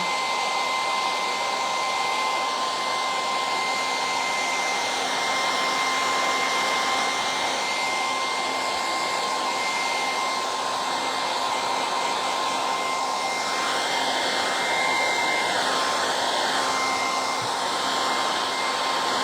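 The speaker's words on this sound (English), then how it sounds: "I'm going to hit that with the hairdryer." A hair dryer blows steadily on freshly stenciled paint, a loud, continuous whining hum that holds unbroken for the whole stretch, with no talking.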